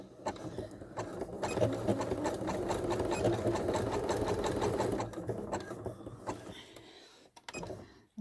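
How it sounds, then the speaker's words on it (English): A sewing machine runs a zigzag stitch over rope, a close steady mechanical chatter for about five seconds that then slows into a few separate clicks and stops. "you've got to make sure when your needle is going up and down for your zigzag, you're going from one side of the rope to the other side of the rope"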